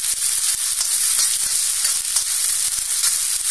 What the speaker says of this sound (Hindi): ये ऑयल गर्म हो चुका है, सबसे पहले हम ऑनियन इसके अंदर डाल देंगे।